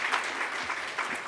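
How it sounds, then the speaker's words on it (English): Crowd applause, a dense wash of many hands clapping at moderate volume, brief and unbroken. "Can we get a round of applause"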